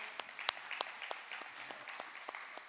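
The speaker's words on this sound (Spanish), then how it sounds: "Así es que dense un aplauso." Sparse, quiet clapping from a church congregation, a handful of distinct claps spread irregularly over a few seconds rather than a full ovation.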